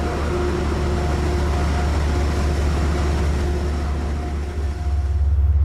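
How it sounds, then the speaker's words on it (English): A Genesis locomotive coupling to a shortened train of carriages for the run into New York: a steady low diesel rumble with broadband hiss, even and continuous, ending in a small clunk-like disturbance near the end. "our single G Genesis locomotive has joined our train to take us for the remaining part of the journey into New York"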